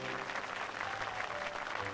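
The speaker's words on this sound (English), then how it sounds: "That's a lot of clapping." Dense crowd applause in the Muv-Luv Photonflowers visual novel game, a steady wash of many hands clapping, fairly faint and continuous throughout.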